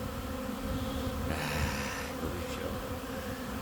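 Honeybees buzz in a dense, continuous drone that swells briefly in the middle, fairly faint and steady, with no talk.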